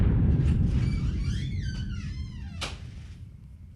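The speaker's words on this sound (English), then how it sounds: "this is the sound of an explosion" A rumbling explosion sound effect played back in a digital audio workstation, a heavy low boom that slowly decays with whooshing, warbling debris tones and a sharp crackle near the end, no voices.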